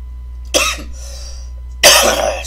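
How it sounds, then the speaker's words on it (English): Two harsh morning coughs from one person, close and loud, separated by about a second of quiet. "Excuse me, morning coughs."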